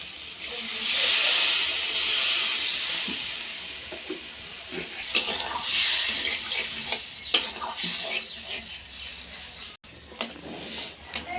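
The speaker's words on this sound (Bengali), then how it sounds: "ঝোলটা ফুটে গেছে এবার মাছগুলো দিয়ে দিচ্ছি" Curry gravy for katla fish boiling in a pan, a close hissing, steamy bubbling that swells early then settles, with occasional clanks and stirring knocks.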